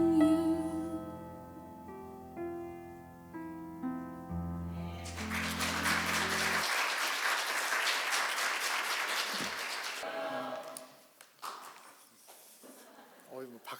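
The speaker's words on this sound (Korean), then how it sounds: "박수까지" A church congregation applauds during a Sunday worship service, a burst of clapping that swells and holds for several seconds before fading, following a stretch of sung music, with speech nearby.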